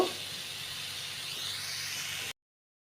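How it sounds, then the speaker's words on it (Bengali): Potatoes fry in a little oil with a steady, close hiss that runs unbroken for about two seconds before cutting off abruptly. "তো এগুলো আমি আগে আলুটা ভেজে নিব"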